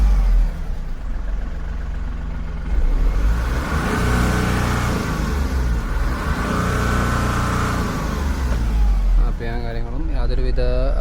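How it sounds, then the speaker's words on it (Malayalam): Ashok Leyland Bada Dost light truck engine running close by, its deep idle rising into repeated revs and falling back across about eleven seconds, loud and steady throughout. "ജസ്റ്റ് ഞാനൊന്ന് ഔട്ട് സൈഡ് എഞ്ചിൻ്റെ പവർ കാണിച്ചു."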